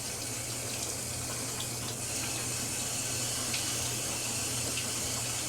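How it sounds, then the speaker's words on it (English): Water runs off a waxed leather jack canteen in a steady, faint trickle and splash, continuous and close, with no talk. "You see how the water runs off?"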